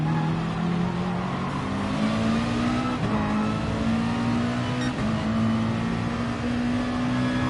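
Race car engine in a racing video game, held at a steady high drone with rising pitch sweeps as it revs through gears, loud and continuous for the whole stretch with no talking.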